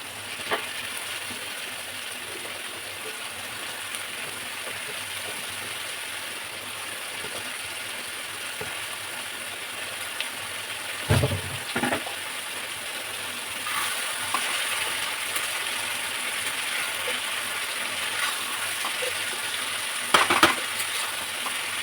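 Washed cabbage goes into a hot pan and sizzles quietly and steadily, with occasional scraping and clatter as it is stirred, while light background noise carries on.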